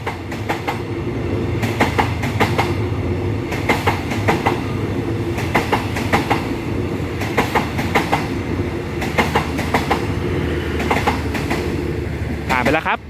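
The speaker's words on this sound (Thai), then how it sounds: "ด่วนพิเศษทักษิณารัตที่ 32 จุมทางหัดใหญ่กรุงเทพ" A Thai special express passenger train rumbles steadily past a railroad crossing at close range, with rhythmic wheel clacks over the rails and a squeal near the end.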